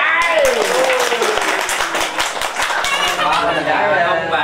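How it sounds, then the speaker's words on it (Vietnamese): Guests clapping at a wedding ceremony, a lively burst of close, rhythmic hand claps with voices talking and calling out over them, easing off toward the end. "các bạn vỗ tay."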